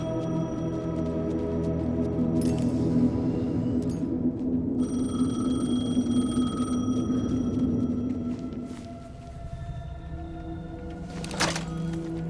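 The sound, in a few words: telephone ringing in the video game Alan Wake 2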